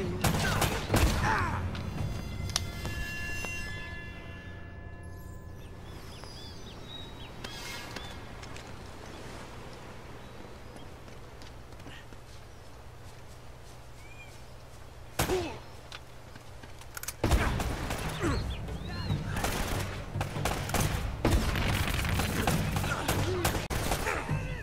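Gunfire in the action video game Uncharted: Drake's Fortune, with bursts of shots and booms at the start and again in the last third, a quieter ambient stretch in between, and a voice talking over parts of it.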